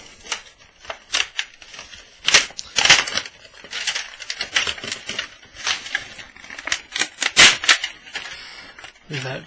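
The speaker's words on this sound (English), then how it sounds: "So basically, then get rid of this packaging." Cardboard and paper packaging being pulled away from a Turtle Beach Earforce PX21 headset box, a close run of crinkles, rips and scrapes in uneven bursts, with a few soft knocks between them.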